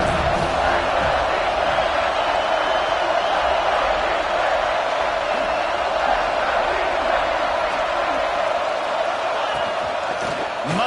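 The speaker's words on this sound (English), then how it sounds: "how nice is it to have the home crowd going absolutely bananas?" Home crowd at a USC vs Notre Dame college football game roars loudly and steadily throughout, a dense, sustained wall of cheering with no breaks.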